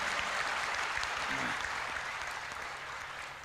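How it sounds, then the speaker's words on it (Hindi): A live poetry show audience claps steadily, a broad wash of applause that fades slightly toward the end, with a faint voice briefly underneath. "एक बार जरा ढंग से ताली बजाओ पीछे तक"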